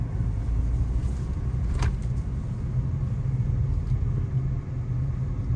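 A Peugeot 408 GT in Sport mode driving a figure-eight test at about 20 km/h, giving a low, steady cabin rumble with a brief faint tick near the start, without speech.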